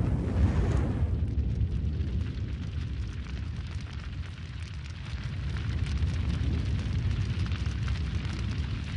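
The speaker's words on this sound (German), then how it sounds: "wie lange dauert es, bis eine Campinggaskartusche, die über einer Flamme steht, explodiert" A camping gas cartridge heated over a flame bursts with a loud blast that fades into a long, roaring, crackling rumble of fire, with no voices.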